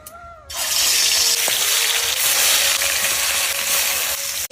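Fish curry masala sautéing in a pan for a Bengali rui fish curry, a loud steady sizzle that bursts in after a quiet half second and holds strongly to the end, with faint scraping.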